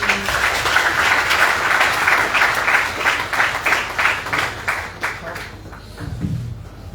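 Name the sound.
audience applause at a ceremony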